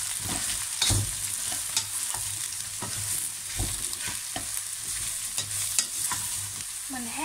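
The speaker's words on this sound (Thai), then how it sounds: "พอเริ่มเหลืองและหอมก็ใส่เห็ดลงไป" Mushrooms fry in a pan with fresh chili, garlic and chopped parsley stems, a continuous sizzle broken by repeated scraping and clattering stirs.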